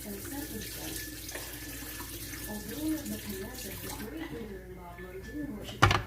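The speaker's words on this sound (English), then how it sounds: "So I'm going to drain this water out." Boiling water pours and splashes steadily from a pot into a sink, with dishes clinking and a sharper clatter near the end, under faint background voices.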